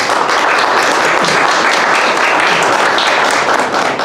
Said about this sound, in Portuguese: palmas para ele, Pereira.